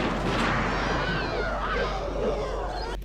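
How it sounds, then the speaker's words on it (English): A film gunshot rings out and trails off into a long echoing tail, a dense sustained wash that fades gradually over a few seconds before a sharp click near the end, with no speech over it. "There's sort of that gunshot that sort of trails and there's like an echo on it"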